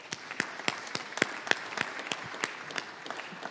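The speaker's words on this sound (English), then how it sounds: "can I have a round of applause for our panel, please?" Audience applause for a panel at a press legislative event, a thin, scattered round of claps with distinct individual hand strikes, moderately distant and fairly quiet, with no talk over it.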